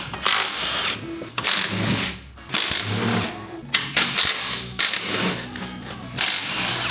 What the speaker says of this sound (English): now I'm going to jump underneath, rip these belly guards off